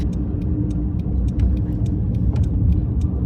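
Traffic in Lima, Peru: cars and buses rumble past in a continuous, loud, close road roar with faint ticking clicks, and nobody talks.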